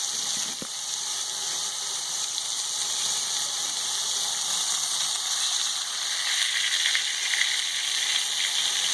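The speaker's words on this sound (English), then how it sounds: "You saute your onion. I'm still letting the meat get, you know, more seared." Pot roast meat searing alongside sautéing onion for a Peruvian-style pot roast, giving a steady, dense sizzle throughout with one brief utensil tap near the start and a slight swell late on.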